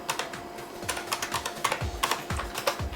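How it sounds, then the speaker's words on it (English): Clicky, close keystrokes on an IBM Model M buckling-spring keyboard, typed in an irregular run of taps with a faint hum of computer equipment underneath. "Probably hear those fantastic key presses. It's my IBM Model M."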